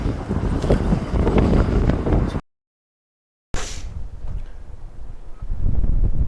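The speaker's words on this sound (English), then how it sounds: "But when you get here, it's very windy today." Strong wind buffeting the microphone in loud, rumbling gusts outdoors at Howley Hall, briefly cutting out before the blustery roar resumes.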